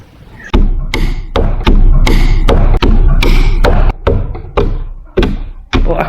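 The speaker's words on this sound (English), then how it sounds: "You can obviously see Yvonne's are banging on the table and everything." Hard bangs on a solid table, about a dozen loud thumps in an uneven rhythm, each with a sharp attack and a ringing decay, close and dominant over a faint background.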